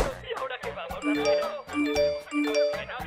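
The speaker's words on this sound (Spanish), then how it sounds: "Y tu celular ha estado sonando todo el tiempo." Mobile phone ringtone chiming in a cinema setting, a bright repeating melodic ding pattern played close and clearly, with voices talking over it.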